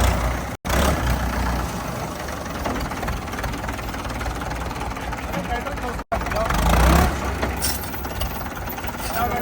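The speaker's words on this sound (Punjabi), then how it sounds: "ਭਾਈ ਜੱਗੂ ਕਹਿੰਦਾ ਪੂਰਾ ਚੁਸਤ ਟਰੈਕਟਰ ਹੈ" A Mahindra tractor engine idles steadily throughout, a low rumbling drone with faint voices underneath and a couple of brief cuts.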